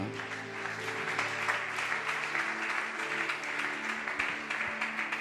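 A church congregation applauds the Scripture reading with sustained, even clapping from many hands that fills the room for several seconds.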